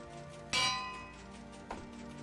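A bell in the Minecraft video game is struck twice. A bright, resonant clang rings out and fades, then a softer second strike follows over a steady background hum.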